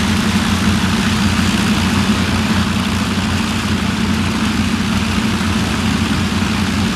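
Continuous loud rumble of large engines running, deep and steady throughout with a droning hum and no voices.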